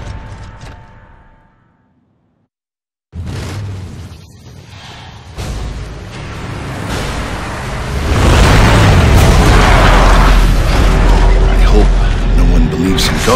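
Shotgun fire in the Gears of War 2 video game, loud heavy blasts amid battle noise that builds into a sustained roar after a brief silence.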